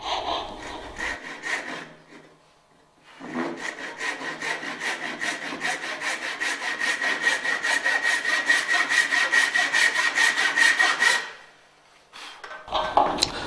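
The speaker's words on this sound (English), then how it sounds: "we cut a track down for about 6mm on either side" A tenon saw cuts a track into timber in two runs of rapid, rhythmic rasping strokes, close and loud, with a brief pause between them and a short rub at the end.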